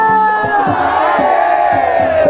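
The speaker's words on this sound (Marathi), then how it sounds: "जोरदार आवाज द्या मला हरा हरा" A large devotional crowd loudly chants "Har Har" in steady, rhythmic unison, the voices close, massed and sustained throughout.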